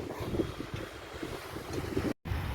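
Sea waves wash against a stone-lined shore at Kozhikode beach, mixed with gusty wind buffeting the microphone in a fairly quiet, continuous roar.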